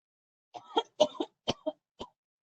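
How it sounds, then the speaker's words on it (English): A short fit of several dry, close post-COVID coughs in quick succession, clear against a quiet background. "that's my post-COVID cough."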